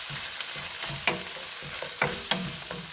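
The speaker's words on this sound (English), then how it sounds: "Give that a little stir." Beef-A-Roni stirred in a pan: a soft steady sizzle with a few sharp scrapes of a utensil against the pan, close and fairly quiet, with no talking.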